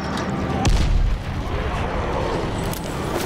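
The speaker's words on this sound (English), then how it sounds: "These grenades suck." A muffled grenade blast from the zombie survival game Dying Light The Following lands with a dull boom, then a dense rumbling wash of noise rolls on steadily for several seconds.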